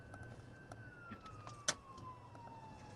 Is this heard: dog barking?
no